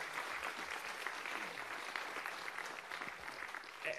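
An audience applauds after a mayoral debate between Nirenberg and Brockhouse, a steady, dense patter of many hands clapping at moderate distance, sustained evenly for several seconds.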